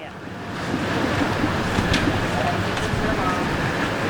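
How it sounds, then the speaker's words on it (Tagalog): Wind and surf on a beach in Boracay form a loud, steady roar, with gusts buffeting the microphone throughout and waves washing in the background. "Mabagyo lang. Mahangin lang."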